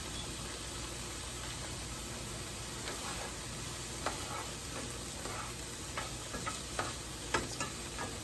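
Plantain slices frying in hot oil give a steady, quiet sizzle with scattered small pops and crackles that grow a little busier toward the end, with no talking.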